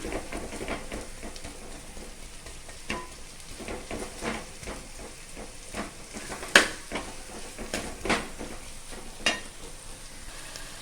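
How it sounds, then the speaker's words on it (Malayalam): Onions sautéing in a pan for a crab curry, a steady soft sizzle with frequent scraping and stirring clicks of a utensil, close and moderately quiet, no voices. "സവാളയും ഇട്ട് ഒന്ന് നല്ലവണ്ണം വഴറ്റിയെടുക്കണം"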